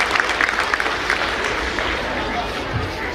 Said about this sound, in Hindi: तालियों की गूंज में इनका